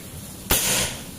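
A PCP air rifle fires a mini slug into a brick, a single sharp crack with a burst of impact that trails off over about a third of a second.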